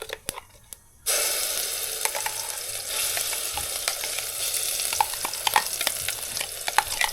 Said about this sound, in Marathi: कांदा टोमॅटोचं वाटप टाकते.